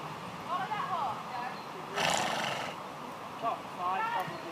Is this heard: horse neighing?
yes